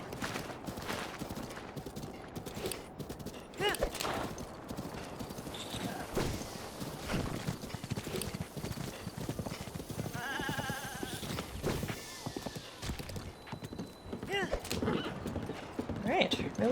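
A horse gallops in Breath of the Wild with rapid rhythmic hoofbeats throughout and a clear neigh partway through. A voice talks intermittently over the game sounds.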